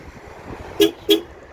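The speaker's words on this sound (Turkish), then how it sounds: "Bu şekilde çift korna bildirimi, geri bildirimi bu şekilde veriyor arkadaşlar." Two short, quick horn toots from a 2016 Ford Ranger Titanium confirming lock, in succession over a low background hum, close by.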